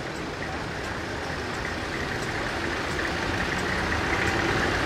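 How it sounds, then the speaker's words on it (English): A 1948 Fordson E27N vintage tractor idles at an outdoor rally, a steady low rumbling engine heard at moderate distance with faint background noise. "We've got another tractor here from Sandy Wilson at the Five Ways."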